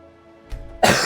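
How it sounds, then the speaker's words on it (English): A person coughs once, sharp and close, after a faint throat-clearing sound, over a quiet video game soundtrack. "Perhaps one day I'll stop coughing."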